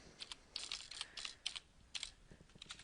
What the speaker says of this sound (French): On va aller taper l'adresse du site Google.